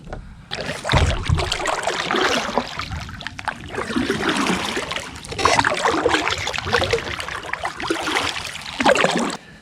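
A kayak paddle strokes through Okefenokee swamp water in repeated splashing, swishing pulls, close and loud, with trickling drips between strokes and no talk.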